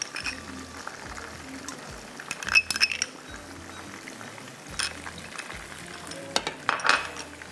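Butter heats and sizzles in a pan for a shahi qeema chawal dish, a soft steady frying hiss under a few sharp clinks of utensils against cookware, with no voices.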